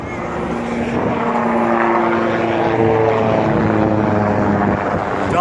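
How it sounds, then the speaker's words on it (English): Two military helicopters fly over the Venice Beach basketball courts in Los Angeles, giving a loud, continuous rotor and engine drone overhead that swells slightly toward the end. "then we get the double chopper flyover"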